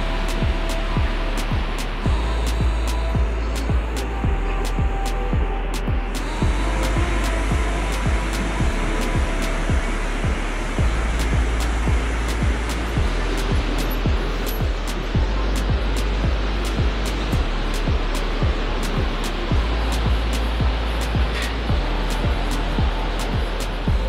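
Raging Himalayan river Dudh Koshi roaring below a high suspension bridge, a loud continuous rushing wash with a steady rumble and intermittent clicking knocks over it.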